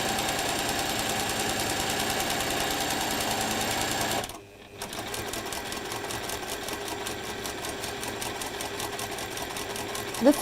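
A sewing machine stitches steadily and fast at close range, with a brief pause midway before the rhythmic mechanical whir resumes; no speech is heard over it.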